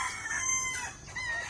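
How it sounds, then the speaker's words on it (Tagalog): Backyard chickens kept on a vacant lot, a rooster's crow and clucking heard nearby and alone, short and slightly muffled. "nag-alaga sila ng manok."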